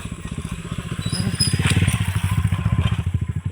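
A motorcycle engine putters with a rapid, steady chugging rhythm, growing louder as it nears and passes along a rural road, with no one talking.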